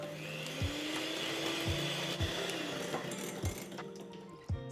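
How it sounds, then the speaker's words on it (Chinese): Electric hand mixer whisking egg whites for a chiffon cake, a continuous whirring drone with repeated light clinks of the beaters against the bowl. "那这个时候我们就可以开动打蛋器去开一个中速或者是高速"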